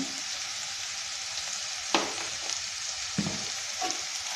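Fried broad beans (chikkudukaya) with green chilies and chili powder are stirred in a pan, a soft continuous sizzle broken by three or four distinct scraping strokes of a spatula, close and quiet.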